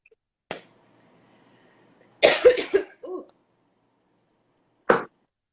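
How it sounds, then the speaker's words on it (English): A tickly cough: a few sharp, dry coughs and a throat-clearing burst spaced apart in an otherwise quiet room, close to the microphone. "Just had a tickly cough."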